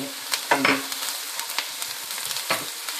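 Onions, garlic and masala frying in a pan give a loud, continuous close sizzle broken by several scraping stirs of a spoon against the pan.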